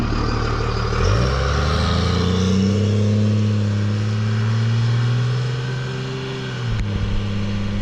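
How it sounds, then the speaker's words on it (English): A lifted Cummins diesel truck with a MagnaFlow exhaust and Skyjacker 8-inch lift rumbles loud and close, its engine note rising as it revs and holding a deep drone before dropping off near the end. "The MagnaFlow exhaust is pumping out fumes right now. I cannot get over the way this sounds."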